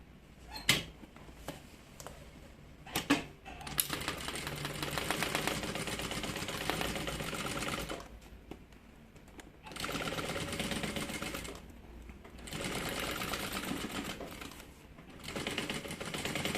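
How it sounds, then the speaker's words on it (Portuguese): A sewing machine stitches the lining of a bag in long continuous runs, stopping briefly between seams, with a few clicks and handling knocks near the start. "Agora a gente só vai vir costurar tudo isso."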